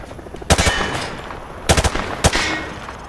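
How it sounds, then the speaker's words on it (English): Automatic rifle shots at range targets in Call of Duty Modern Warfare 2, three short sharp bursts of gunfire spaced about a second apart over a steady background hum. "Grab that weapon off the table and fire at the targets behind you."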